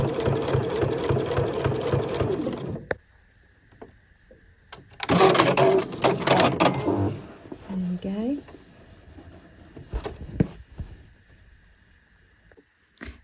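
A sewing machine stitching a tote bag panel at stitch length 3 runs in a steady mechanical whir for about three seconds, then gives shorter bursts of stitching with handling noises and pauses, with a voice speaking throughout.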